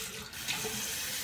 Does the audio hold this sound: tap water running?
yes